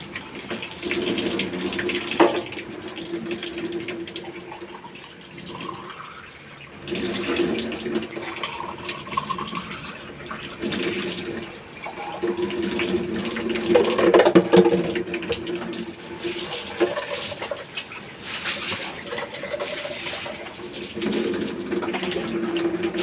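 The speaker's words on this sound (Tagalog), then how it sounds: "Patayin mo muna yung tubig." Water streams from a tap into a sink for a long stretch, a continuous splashing hiss that swells and dips as hands move through the flow while people talk intermittently nearby.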